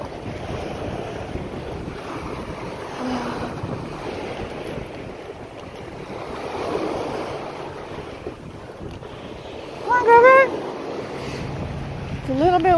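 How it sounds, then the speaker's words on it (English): Steady wind buffets the microphone outdoors, a constant rushing roar with a brief louder gust near the end and faint voices underneath. "A bit windy."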